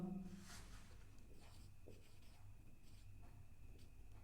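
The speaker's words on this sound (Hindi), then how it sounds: "जैसे कि मैं यहाँ पे लिख देता हूँ" Faint scratching strokes of writing on a board during a chemistry lesson on the mole concept, soft repeated marks in a quiet room with no talk over them.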